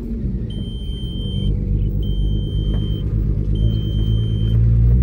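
An R32 car's exhaust rumbles steadily and loudly at low pitch, building slightly toward the end, with faint high electronic beeps repeating in the background.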